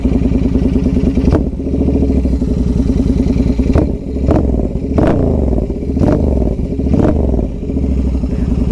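Motorcycle engine fitted with a performance air filter, warmed up and revved repeatedly in short sharp bursts over a steady, loud idle, with clattery mechanical noise close by.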